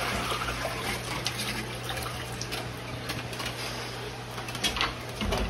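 Water with a pleco fish is poured from a container into an aquarium tank, giving a continuous splashing, trickling wash over a steady hum.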